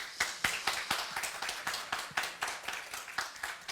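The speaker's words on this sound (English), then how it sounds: "Give them a big applause." Clapping for the speakers at a Pride event session, a fairly sparse, quiet patter with distinct, rhythmic individual claps, as from a small audience or just a few people, with no voices.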